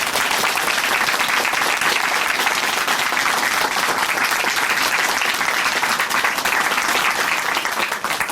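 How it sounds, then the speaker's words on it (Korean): A church congregation breaks into loud, sustained applause after a testimony on a Christian television program, dense continuous clapping from many hands filling the room with no voices heard over it. "귀한 간증 전해주신 황승현 자매님께, 그리고 또 우리에게 영원한 생명을 주신 하나님께 큰 박수 올려드리겠습니다."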